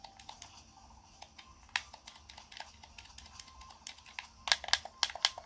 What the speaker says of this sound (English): I now have a loud clacky button tapping for the back